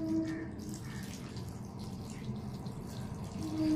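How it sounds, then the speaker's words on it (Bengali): Raw milk pours steadily into a cooking pot that already holds ground Gobindobhog rice paste, a continuous liquid splash and trickle heard close up and alone for a few seconds. "এবার দিয়ে দিচ্ছি দুধ।"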